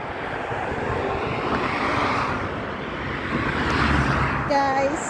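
Traffic on a road in Riyadh gives a steady broadband roar close by, with a vehicle passing and swelling in loudness toward the end, while a voice talks over it.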